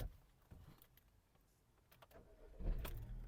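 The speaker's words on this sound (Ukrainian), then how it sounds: "Давайте запустимо двигун." A Volkswagen Golf 6 with automatic transmission and 186,000 km cranks and fires up, quiet clicks first, then a short starter whirr and the engine catching into a steady idle near the end.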